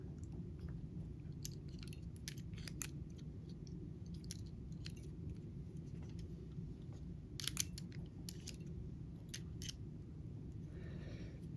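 Kaiweets KWS 113 or KWS 114 wire strippers work solid copper wire, producing a string of crisp, close snips and clicks scattered over a steady low hum, with no one talking.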